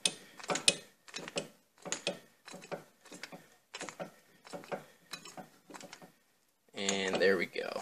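A C-clamp screwed down to press the brake caliper piston back on a Jeep Cherokee XJ during a pad and rotor change, heard as a steady, evenly spaced series of short creaking, ratcheting strokes, ending in a louder, harsher burst.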